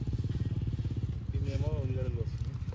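A motorcycle engine putters with a rapid, even pulse as the bike rides off, fairly close, while a voice cuts in briefly midway.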